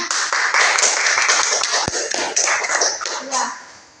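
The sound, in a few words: classroom students clapping hands, applause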